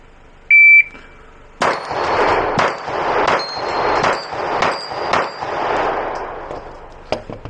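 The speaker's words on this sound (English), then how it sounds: "So we're at the plate rack. We got six rounds in the Glock 26." A shot-timer beep, then a quick string of Glock 26 pistol shots at a steel plate rack, each crack followed by a ringing metallic clang from a hit plate, loud and close, with no talk.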